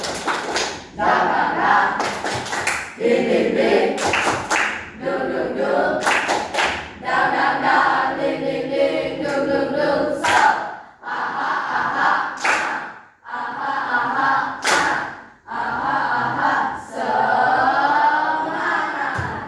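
A classroom group performs a rhythmic spirit clap in unison, loud bursts of patterned hand claps broken by short pauses, mixed with shouted chanting voices throughout.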